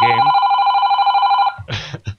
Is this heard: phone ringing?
yes